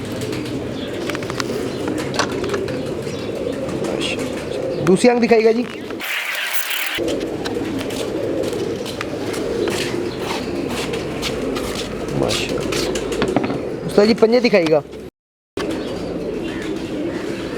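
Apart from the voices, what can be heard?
naksha breed pigeon cooing and flapping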